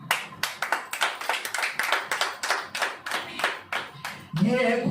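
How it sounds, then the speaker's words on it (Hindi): A church congregation claps its hands at a worship service, a steady run of about twenty sharp, evenly spaced claps, close and clear, ending as a voice begins. "क्या ताली नहीं बजनी चाहिए?"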